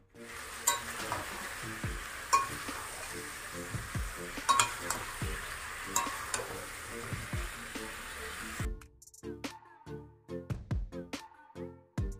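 Red amaranth greens fry in a pan at home, a continuous sizzle with repeated scraping stirs and clinks of utensil on metal, the sizzle cutting off near the end while the stirring knocks carry on.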